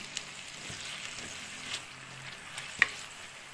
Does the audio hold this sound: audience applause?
no